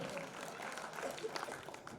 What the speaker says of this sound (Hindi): जोरदार तालियां सोनम के लिए।